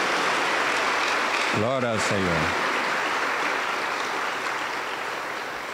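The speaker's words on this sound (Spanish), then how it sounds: "vamos a dar un aplauso bien fuerte para ver si lo despertamos. Aplauso para Cristo Jesús." A church congregation applauds steadily throughout, a dense continuous patter of many hands, while a man briefly calls out over it.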